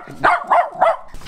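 A dog in a cargo van barks three times in a steady rhythm, close and fairly loud, followed by a brief rustle, with no one talking.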